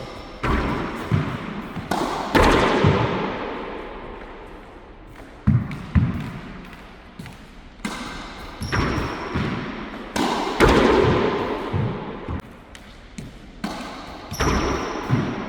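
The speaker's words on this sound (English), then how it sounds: "Basically, what you're going to be doing is hitting the ball against the wall." A tennis ball struck with a racquet against the wall of an indoor racquetball court, repeated loud hits and thuds with bounces echoing around the room, in a steady rally rhythm.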